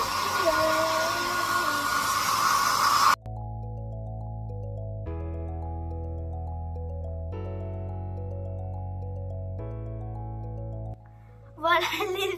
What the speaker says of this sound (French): Je vais me sécher les cheveux